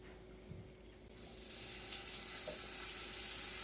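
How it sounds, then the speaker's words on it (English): A steak sizzles in a hot oiled pan while cooking for a Philly cheesesteak, a steady broadband hiss that swells after about a second and holds loud and even to the end. "The pan is ready, throw the steak in it."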